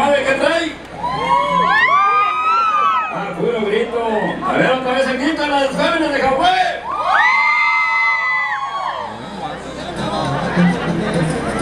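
Crowd at a Mexican horse-dancing event shouting, whooping and cheering, many loud overlapping voices rising in waves, close and lively with a brief dip in between.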